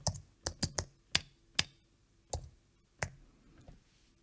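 A computer keyboard typing sound effect: about eight separate sharp key clicks at an irregular pace, close and fairly quiet, with no voices.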